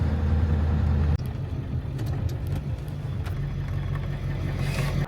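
A tow truck, towing a Ford 6.7 diesel, runs with a steady low engine drone and whir while driving, a brief jolt near the start, then a continuous rumble with light clicks.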